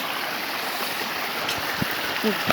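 A steady rush of flowing stream water fills the whole stretch, with a few faint splashes and knocks near the end.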